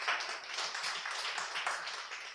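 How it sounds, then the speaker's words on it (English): Applause from an audience at a university innovation club launch, a steady dense patter of many hands clapping at moderate level for a couple of seconds without talk. "Another round of applause."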